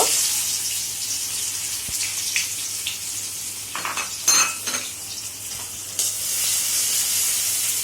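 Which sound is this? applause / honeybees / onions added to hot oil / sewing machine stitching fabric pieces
onions added to hot oil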